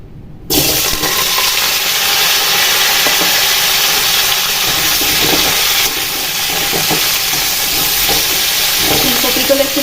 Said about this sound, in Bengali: লাল লাল করে ভেজে নিই